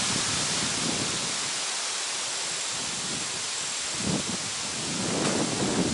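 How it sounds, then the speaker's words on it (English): Wind blows through a perennial cottage garden with vegetables and herbs, a steady broad rushing hiss with gusts swelling and fading, with no other sounds above it. "I bet this might be a windy session"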